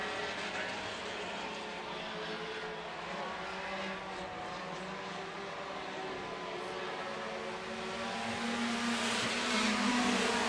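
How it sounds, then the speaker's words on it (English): Sportmod and sport compact race cars roar around the track at Buena Vista Raceway, a steady engine drone heard from a distance that swells louder toward the end, with no voices. "Here comes Recker now to the back bumper of the 14 machine."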